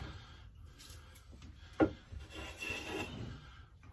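A Stanley Bailey No. 3 hand plane rasps across a wooden board, taking shavings with one sharp scrape and then softer, faint strokes against a quiet background.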